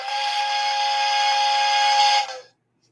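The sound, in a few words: steam whistle sound effect for a donation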